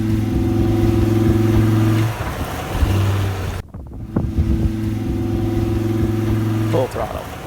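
Overland truck with an inline-5 engine revving hard at full throttle while stuck, a loud steady drone with strong low harmonics that breaks briefly near the middle, then resumes under wind buffeting and a few spoken words.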